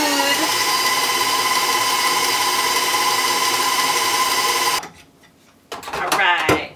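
An electric hand mixer runs steadily, beating brownie batter in a home kitchen with a loud, continuous whir, then cuts off abruptly and a person starts talking.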